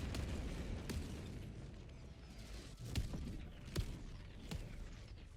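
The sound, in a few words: 120mm orbital barrage explosions in Helldivers 2 video game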